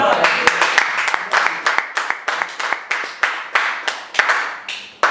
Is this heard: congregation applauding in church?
yes